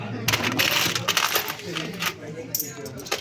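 Loose euro coins clink and rattle as they are counted out by hand, a steady run of small metallic jingles close by, with a voice talking over them at times.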